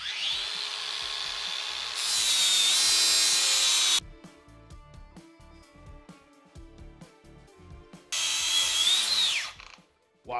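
A cordless battery-powered grinder spins up in two loud, high-pitched bursts of whining cutting, separated by a quieter stretch of lower mechanical rattling, close to the listener.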